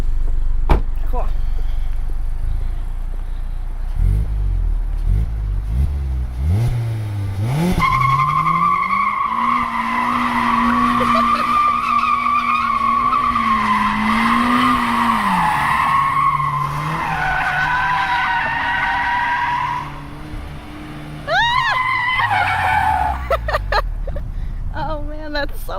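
Tires on a 2020 Mazda Miata squeal and skid in long, loud, wavering screeches during a drive, with engine noise underneath. Voices talk at the start and again near the end.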